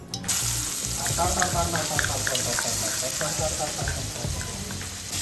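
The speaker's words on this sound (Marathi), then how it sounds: "ते पेस्ट आम्ही या तेलात टाकणार. आवाज बघा फक्त कसा येतोय तो." Spice paste for kadhi dropped into hot oil, bursting into a loud, close crackling sizzle that starts abruptly and keeps spitting and popping steadily throughout.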